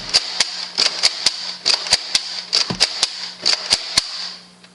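A Nerf Vigilon blaster fires rapidly through a six-dart clip, sharp close snapping shots and clicks in quick uneven succession over a faint steady hum.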